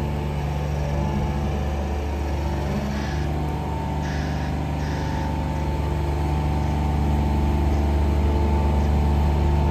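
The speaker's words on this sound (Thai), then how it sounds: "นี่จะเป็นเครื่องยนต์ดีเซล3สูบนะคะ" The three-cylinder diesel engine of a Genie Z34/22IC boom lift idles steadily and close by, a continuous low droning hum with a faint higher whine, running alone for about ten seconds.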